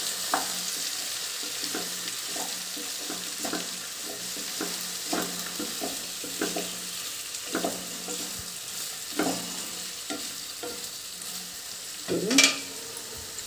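Brinjal and tomato pieces fry in a pan under a constant gentle sizzle. A spoon scrapes and turns them in repeated close strokes, with a louder clatter near the end and no talking.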